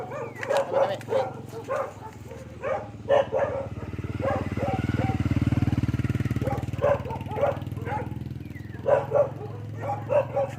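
Several dogs bark in repeated bursts, some sharp and some yipping, with a low engine rumble underneath that swells in the middle of the stretch.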